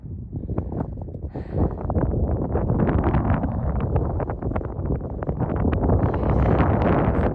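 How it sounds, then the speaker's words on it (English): Strong, cold gusts buffet the microphone on a mountain trail near the summit of White Cap in Maine's 100 Mile Wilderness, a steady, rumbling roar that swells and fades, with rustling bursts throughout and no voices. "It's windy and cold."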